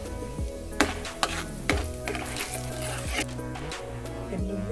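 Cumin and mustard seeds sizzle in hot oil for a mango pickle, with crackling and a few sharp clinks. A tonal hum runs underneath.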